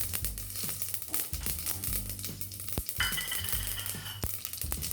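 Mustard seeds and cumin spluttering in hot oil for a lentil saaru, with rapid crackling pops and sizzling throughout, sharp snaps scattered over a steady frying hiss.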